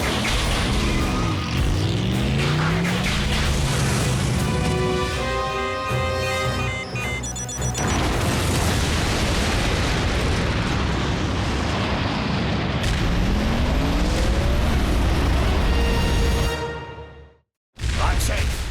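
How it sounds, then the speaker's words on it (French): A loud, sustained explosion with rumbling booms and whooshing blasts from the Transformers Prime cartoon, layered with dramatic effects and voices, ending in a sudden cut to silence near the end. "Explosion imminente!"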